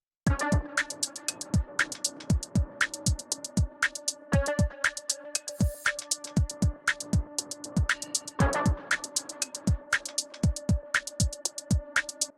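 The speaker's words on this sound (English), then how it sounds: "You can hear there's more distortion," A looping beat of sharp thumping drum hits under sustained, gritty tones processed by the Newfangled Audio Pendulate or Generate plugin's animated option, with a noisy wash shifting in the background; no one speaks.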